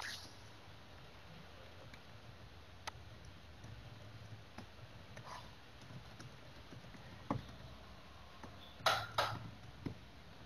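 Computer keyboard typing in a quiet room, sparse faint clicks and taps scattered through the clip with a brief louder cluster of keystrokes near the end, no one talking.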